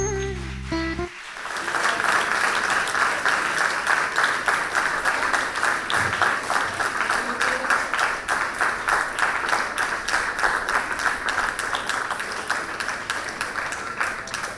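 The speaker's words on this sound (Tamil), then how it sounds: "கைத்தட்டுங்க எல்லாரும்." An audience at an achievers' meet and award ceremony breaks into sustained applause after a short spoken bit at the start, steady many-handed clapping filling the rest at an even level.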